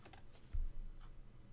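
Soft, quick clicks from a computer mouse, a handful of light taps in a short burst at close range, while playing a clicker video game about clicking balls.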